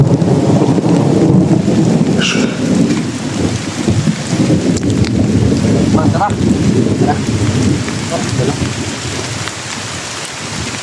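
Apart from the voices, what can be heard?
heavy rain with thunder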